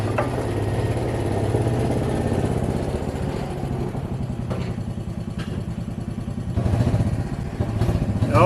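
A mule utility vehicle's engine rumbles steadily nearby with mechanical clatter, growing slightly louder toward the end as it approaches, with no talking.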